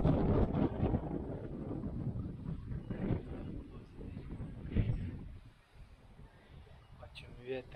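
Mountain wind buffeting a microphone on a summit hike, loud rumbling gusts that ease toward the end, while a person talks over it.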